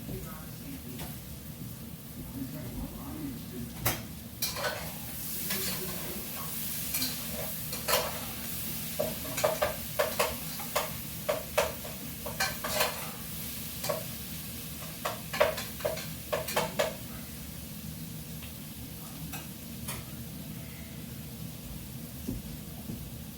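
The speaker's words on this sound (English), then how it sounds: "And stir the sausage and onions right now." Sausage and onions frying in a pan, stirred with a utensil, giving a steady soft sizzle under repeated scraping and clattering strokes, close and moderately quiet.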